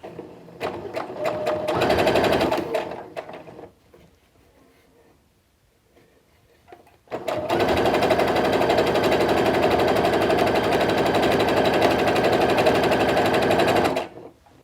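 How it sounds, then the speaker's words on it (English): A sewing machine stitches up the two sides of a cloth face mask made with ties instead of elastic, running close and loud in a short burst, pausing, then running steadily for about seven seconds. "I'm just going to sew up the two sides here"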